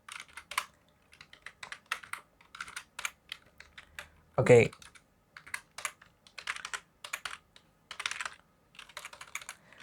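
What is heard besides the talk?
typing on a computer keyboard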